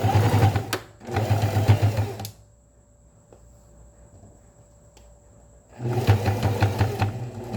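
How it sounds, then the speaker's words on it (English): A sewing machine stitching across a fabric edge with a number 16 jeans needle, two bursts of rapid rhythmic clatter, a quiet pause, then another burst, close and loud with no talking. "We're going to take it to the sewing machine and we're going to sew across the edge."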